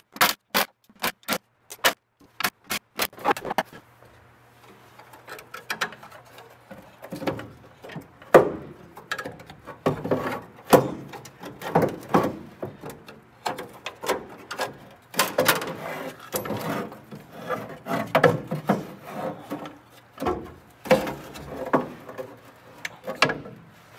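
The master cylinder and pedal assembly come out of a barn-find Sprite car after its bolts are undone with a 7/16 socket. Close, rapid ratcheting clicks give way to irregular metallic knocks, scrapes and clunks, with no speech.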